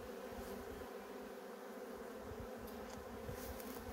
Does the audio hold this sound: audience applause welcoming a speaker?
no